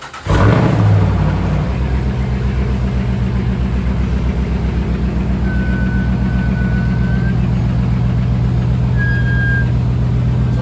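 A Ram full-size off-road pickup pulls away very slowly, its engine a steady low rumble that holds even and close throughout, with no voices.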